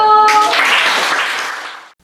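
Middle school students in a home economics class burst into a short round of applause at the end of the lesson, a dense clatter that swells quickly and then fades out.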